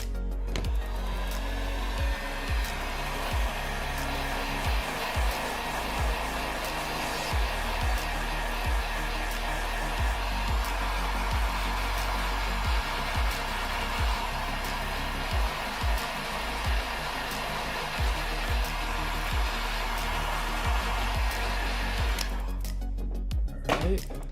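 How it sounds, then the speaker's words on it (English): A hot air blower heats the back of a Samsung Galaxy S10+ to loosen its ear speaker during a screen repair: a continuous close, steady whooshing roar with a low hum underneath, lasting over twenty seconds, with faint small clicks of handling and no talking. "We're gonna blow heat on the other side."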